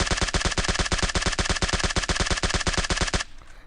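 Rapid sustained automatic gunfire from a spray in the mobile battle royale game PUBG Mobile, a dense evenly spaced burst of shots lasting about three seconds, loud and close, then cutting off to quiet.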